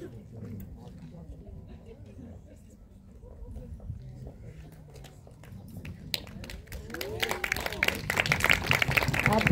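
Applause from an audience starts thin under a voice and swells over the last few seconds into a fuller burst of clapping.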